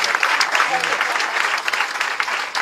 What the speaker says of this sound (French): On peut l'applaudir bien, bien, bien fort, s'il vous plaît.